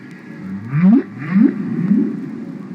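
Humpback whale song rings out as a few rising, moaning calls in a slow sequence, each swooping upward, clear and resonant against a low underwater hiss.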